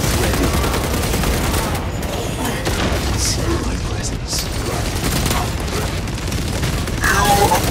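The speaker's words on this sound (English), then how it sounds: "Launching crack grenade!" Crack grenade launch in Warhammer 40k Space Marine 2 multiplayer combat: dense, loud gunfire and booming explosions run continuously, with game voice chatter mixed in.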